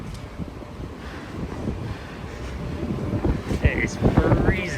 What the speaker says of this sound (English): I bet you can't actually hear me because it's so windy